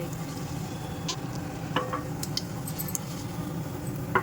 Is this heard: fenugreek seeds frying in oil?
yes